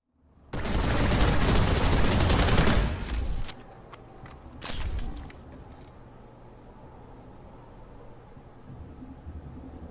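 The Artemis weapon in Planetside 2 fires a loud, dense burst of rapid shots lasting a couple of seconds, followed by a shorter second burst and quieter scattered shots as the game sound fades.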